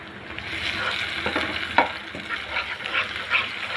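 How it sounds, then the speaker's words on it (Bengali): Eggs fry in a pan with a moderate sizzle while a spatula stirs and scrapes, giving irregular soft knocks and swishes over the bubbling hiss. "এখন আমি একটা খুন্তি দিয়ে নেড়ে নিব"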